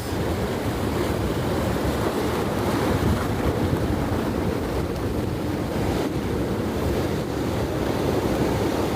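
Ocean waves roll and break continuously at the St Mikes surf beach, a broad roaring wash mixed with wind buffeting the microphone, with no talk over it.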